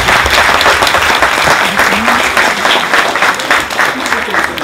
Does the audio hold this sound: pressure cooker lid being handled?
no